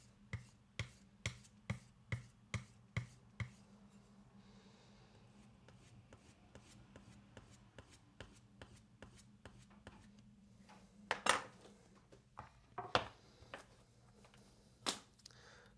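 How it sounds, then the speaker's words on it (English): A paring knife is sharpened on a lithography stone in quick, evenly spaced strokes. The crisp rasps come close and regular at first, then turn sparser and more irregular, with a few louder scrapes near the end. "I will sharpen this again. So I do fast in motion,"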